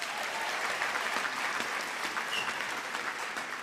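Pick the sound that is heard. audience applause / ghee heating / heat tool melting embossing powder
audience applause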